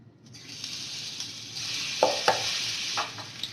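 Garlic fries in hot oil in a pan for chili garlic oil, a loud continuous sizzle swelling after a moment, with a few clinks and stirring scrapes of a utensil partway through.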